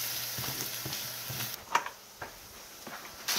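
Minced garlic sizzling in olive oil in a pan, a steady close hiss with a few soft clicks and taps, brief and without talk.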